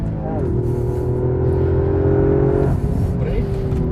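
Toyota GR Yaris engine pulling steadily on a track while weaving through cones, a sustained close-up drone with rising pitch and a brief gear change, with excited talk over it.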